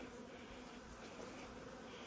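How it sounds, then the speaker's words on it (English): Dense, steady buzzing of many honey bees inside a hive, a continuous droning hum filling the clip without pause. "full of bees, nice lots of bees in here"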